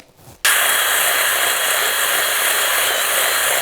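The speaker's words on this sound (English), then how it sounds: "give this a bit of a tidy up with the drill bit" A power drill starts abruptly and runs at a steady high whine as the bit enlarges a hole in a brake mounting part for a Sur Ron electric bike brake kit, loud and close without pause.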